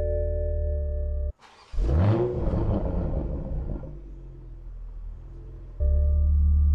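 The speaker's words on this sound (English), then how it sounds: "Just really, really nice rush of noise out of the exhaust when you turn this thing on." Toyota Supra starts up in sport mode: an idle hum cuts off, then a sudden loud exhaust roar surges, swells and fades into a settling idle before the steady hum returns.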